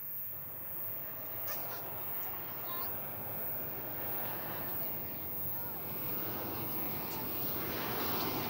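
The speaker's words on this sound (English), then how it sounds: "It's an Airbus A321." An American Airlines Airbus A321 arrives at Dallas/Fort Worth airport. Its jet noise is a steady, broad roar that swells slightly as it approaches.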